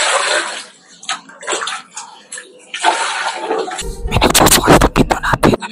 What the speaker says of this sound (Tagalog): Kailangan natin magbuhos dito ng tubig.